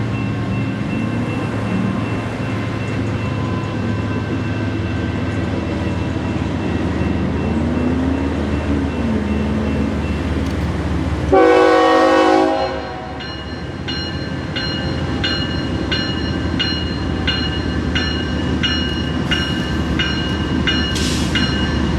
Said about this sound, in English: IHB transfer train GA6 came into view